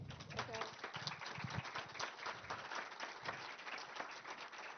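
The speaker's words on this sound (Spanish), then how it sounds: "Un fuerte aplauso, por favor" Audience applauding after a talk at an animation day event, dense steady clapping filling the whole stretch with voices mixed in.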